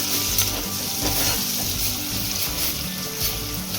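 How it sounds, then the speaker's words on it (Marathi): Mustard seeds, cumin and bay leaves fry in hot oil for mutton curry, crackling and hissing continuously up close while a utensil stirs and scrapes the pan, with no voices. "आपण थोडीशी मोहरी टाकल्या. थोडंसं जिरं टाकलंय. आणि आपण तमालपत्र टाकले. आता हे चांगलं मिक्स करून घेऊया."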